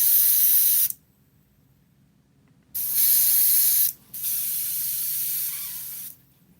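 An airbrush gun sprays thinned paint in three separate hissing bursts, each a steady, close, loud spray lasting one to two seconds and broken by short silences.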